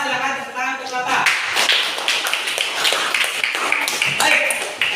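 Classroom applause for a student: after a brief spoken voice, a room of pupils breaks into sustained, dense clapping that continues steadily to the end.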